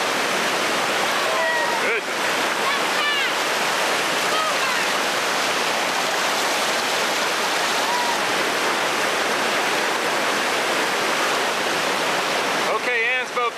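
Whitewater river rapid with standing waves and a drop, a loud continuous roar of rushing water filling the whole span, with brief voices and splashes near the start and end.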